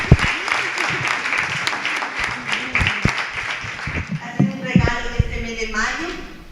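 Applause for a speaker named Koni at a human rights talk on persecution of women defenders in Mesoamerica, a brief burst of clapping mixed with talk that continues over it.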